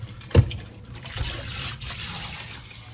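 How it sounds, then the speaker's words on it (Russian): Hot water pours and splashes through the clogged, sand-filled drain of an Audi A8 D5 during flushing, a steady nearby watery rush with a brief louder gush near the start and no talk. "Сейчас мы его сначала душим кипяточком, химией, а потом уже высоким давлением."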